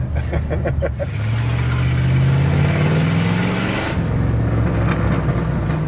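A hot rod engine revs up with a rising, throaty drone, holds high, then drops back to a lumpy idle, close and loud throughout.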